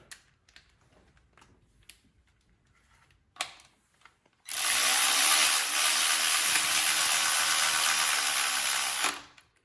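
A cordless ratchet drives a bolt back in during a tool comparison of Milwaukee M12, Husky, Ryobi and Craftsman models. A few faint clicks come first, then a loud, steady, close whirring buzz runs for about five seconds and stops abruptly.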